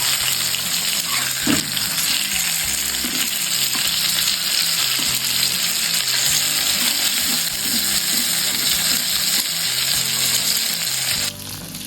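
Masala-coated sankara fish sizzles and crackles steadily in a small amount of hot oil, a continuous close frying hiss with occasional pops and stirring clinks, no talk.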